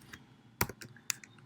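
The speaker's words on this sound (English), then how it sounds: "I typed in my password" Someone types a password on a computer keyboard: a short burst of a few close, crisp key clicks in irregular rhythm, heard on their own with no talk.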